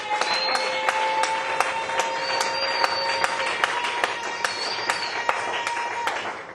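Congregation clapping in a church service, a dense, steady wash of applause with sharp individual claps running throughout and faint tones beneath.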